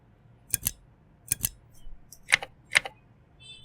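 Sparse keystrokes on a computer keyboard as a terminal command is typed: a few sharp clicks in pairs with short pauses between, close and fairly crisp, with no talking.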